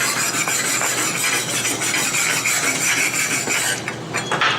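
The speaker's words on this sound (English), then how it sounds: "we'll just take a wire brush" A wire brush scrubs slag off fresh stick welds on steel, a continuous harsh raspy scraping that runs steadily close by, easing slightly near the end.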